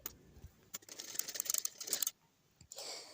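A sewing machine stitches buckram onto cuff fabric in short close-up bursts of rapid needle clatter, separated by brief pauses, quiet overall and without speech.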